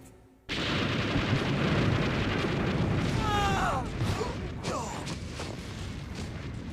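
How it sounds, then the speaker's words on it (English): Grenade explosions in a shooter game erupt abruptly with a loud blast that sustains into a long rumbling roar, followed by scattered debris crackles and quieter bursts as it fades. "Just keep throwing grenades until you blow up the fucking thing."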